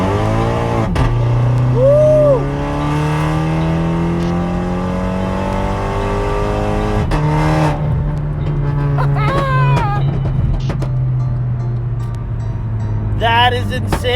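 A methanol-injected 2012 Volkswagen CC with a DSG gearbox drives hard, its engine climbing through rising revs with quick shifts in between, heard loud from inside the cabin while people talk.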